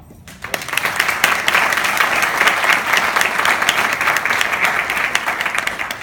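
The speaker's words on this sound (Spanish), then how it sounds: "para que pida un aplauso" A crowd claps for a poet being introduced at an evening literary event, with dense, steady applause that fills the room and holds at an even level throughout.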